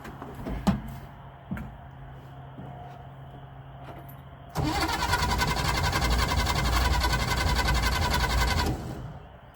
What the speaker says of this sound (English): Crank's good.